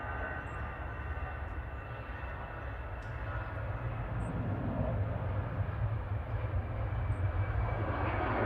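An EasyJet Airbus A319 jet at Manchester Airport gives a steady, broad engine roar that holds for the whole stretch and swells slightly toward the end, with no voices.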